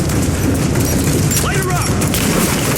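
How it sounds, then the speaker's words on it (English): Grenade explosions and gunfire in the video game Rise of the Tomb Raider: a dense, loud, continuous barrage of booms and shots, with shouting voices over the din. "Grenade firing!"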